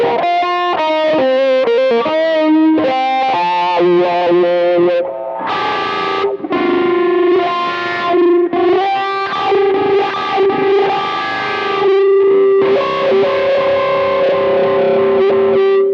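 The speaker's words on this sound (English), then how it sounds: "The Rat is a distortion pedal I've had for a while." Electric guitar through a Rat distortion pedal, loud and gritty, playing a run of chords and sustained notes with sharp attacks, ringing tones and brief pauses over sixteen seconds.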